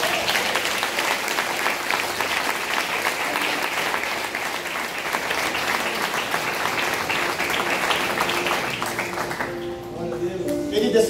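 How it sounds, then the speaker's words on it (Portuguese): Sustained applause from a church congregation fills the space, dense and steady for about ten seconds before thinning out at the end, with some voices mixed in. "Você pode aplaudir o Senhor"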